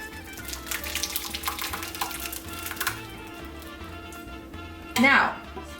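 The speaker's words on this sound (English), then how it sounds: "slowly, we're going to pour it in our container" Cooked Macedonian rice pudding is poured slowly from a pot into a container, a soft wet slosh that runs under a person talking and ends in a brief louder splash.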